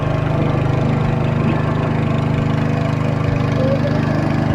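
Motor boat engine chugging steadily on a backwater trip at Kumarakom, a close, loud, even putter with a regular low throb and no break throughout.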